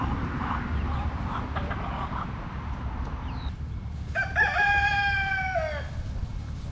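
Homestead farm chickens cluck softly against a low steady background hum, then a rooster crows out clearly near the end with a long drawn call.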